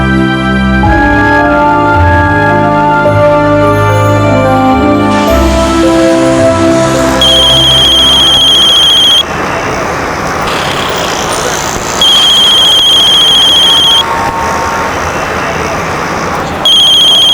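A phone ringtone chirps in repeated bursts over traffic noise and music, each ring lasting a couple of seconds with short gaps between.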